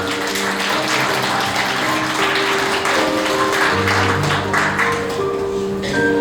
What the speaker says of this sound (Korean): 하객 여러분들 이 훈훈한 장면을 위해 박수 부탁드립니다